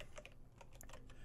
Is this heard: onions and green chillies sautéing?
no